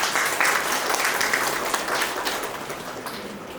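Loud, dense applause from an indoor crowd at a retirement farewell at a GST office, a sustained burst of clapping that slowly tapers off, with no talking over it.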